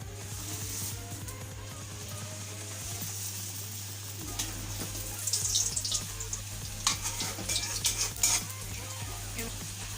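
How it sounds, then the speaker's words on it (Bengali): Puri frying in hot oil for halwa puri, with a steady broad sizzle throughout and occasional faint clinks of utensils, growing slightly louder with scattered crackles in the second half. "খুবই অল্প সময়ে পুরিটাকে ভাজবো"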